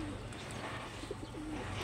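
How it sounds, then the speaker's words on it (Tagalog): Pigeons coo softly in low, rolling calls, repeated a few times against a steady hum of background noise. "Yun pong kalapati ko po."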